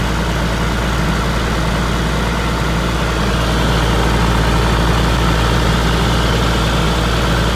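A John Deere 6068 diesel engine idles after an overhaul, a loud, steady low rumble with an even mechanical clatter running unbroken and close, with no talking.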